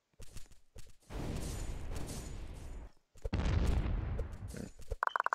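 Explosion quirk attacks in a My Hero Academia video game, sharp blasts followed by rumbling bursts of fiery noise, two long booming waves with brief cracks between them, loud and close.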